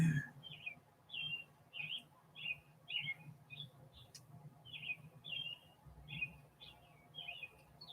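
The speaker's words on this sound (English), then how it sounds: "And these birds are awfully chatty." Small birds chirp outdoors in Bend, Oregon, a steady series of short, bright tweets repeating roughly every half second, faint and somewhat distant over a quiet low background.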